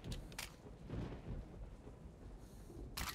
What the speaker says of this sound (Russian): Нас гроза палит.